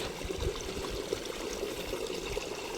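Irrigation water flowing steadily through a farm field where a channel has been dammed with packed soil, a continuous close trickle and gush with no voices.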